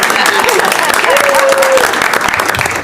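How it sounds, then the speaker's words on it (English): City council audience applauding girls' golf teams: continuous crowd clapping, loud and close, with voices and a brief cheer or whoop rising over the applause. "Clap."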